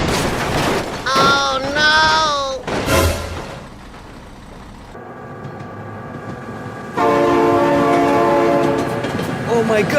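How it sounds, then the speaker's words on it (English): A train horn blares in bursts in the BeamNG driving game, then a passing train rumbles loudly, and the horn returns strongly near the end, with an excited voice shouting over it. "Oh my god, train!"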